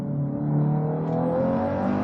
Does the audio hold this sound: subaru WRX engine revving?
yes